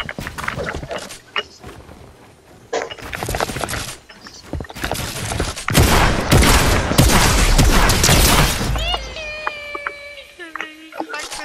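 Bursts of shotgun gunfire in a Fortnite match, several loud blasts and crackling volleys in clusters, mixed with game effects and tonal interface sounds near the end.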